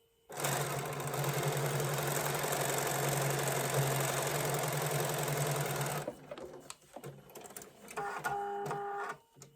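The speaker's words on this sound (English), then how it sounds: "Sorry about my sewing machine whining." Sewing machine stitching a quilt block, a loud steady whining hum for about six seconds that then stops, followed by quieter clicks and brief mechanical whirs.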